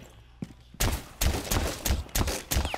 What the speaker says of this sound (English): Shoot up this floor, Lesion.